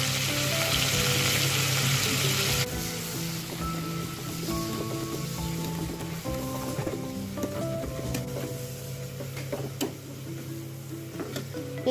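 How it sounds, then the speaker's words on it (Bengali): Sliced onions frying in hot oil left over from frying sardine fish, a steady close sizzle with dense bubbling crackle that settles slightly after the first few seconds and continues alone. "এবার ওই তেলেই পেঁয়াজ দিয়ে দিলাম,"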